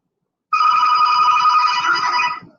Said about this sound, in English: Now your phone's ringing